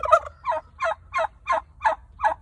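Bronze and sweetgrass turkeys gobble in a series of seven close, evenly spaced calls, each a short burbling burst over a low background hum.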